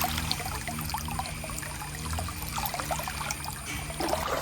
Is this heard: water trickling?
yes